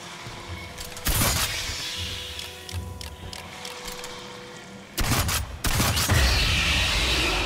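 Gunfire bursts in the sci-fi shooter Aliens Fireteam Elite, sharp loud volleys near one second and again around five to six seconds over a steady bed of game ambience and machinery hum.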